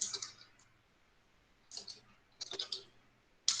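Computer keyboard typing in a basic computing lesson: short bursts of quick clicking keystrokes, close and fairly faint, separated by pauses, with a low steady hum underneath.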